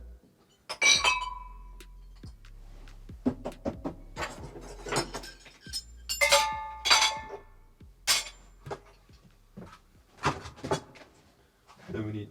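Glass foley props set on carpet in a foley recording studio clink and tap in scattered bright, sharp bursts, close and clear, with a person talking quietly between the sounds.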